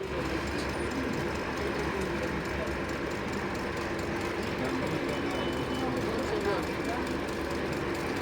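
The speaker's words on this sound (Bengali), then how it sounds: "36 মিনিট বিলম্ব নিয়ে তিস্তাও কিন্তু বিমানবন্দর ছেড়ে দিল" Tista Express pulling out of Dhaka airport station, a steady loud rumble of railcars and engine with faint wheel clatter throughout, continuous and close.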